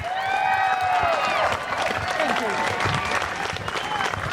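Loud applause and cheering from an energized crowd at a political rally, dense continuous clapping with a few whistles over several seconds.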